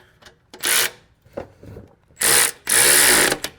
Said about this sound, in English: I'm gonna snug these up just to show how loose they were.